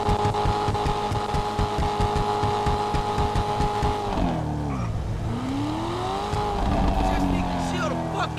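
Lamborghini engine in the GTA 5 video game, a loud steady harmonic drone of a game car driving, then the pitch drops and sweeps up and down as it shifts and revs, with a voice talking over it.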